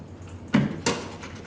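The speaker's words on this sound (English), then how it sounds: "so close the door again" A door closing in a classroom, two close thuds a moment apart over quiet room tone.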